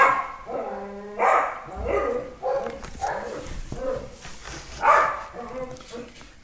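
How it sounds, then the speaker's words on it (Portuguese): A dog barks repeatedly in a home during an online programming lesson, several sharp barks and yips scattered over a few seconds, close and loud, mixed with a man's speech. "Esperar o cachorro parar de zoar, né?"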